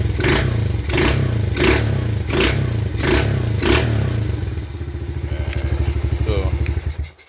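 A Kawasaki KLX110 dirt bike engine with a freshly cleaned carburetor, run without its air filter, revs up in repeated rhythmic bursts, then settles into a steady, close, loud running putter with some clatter.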